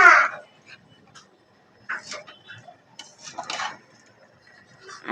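A spoon scrapes and clinks against a pot while rice is stirred together with vegetables for khichuri, in sporadic close taps and scrapes separated by quiet gaps.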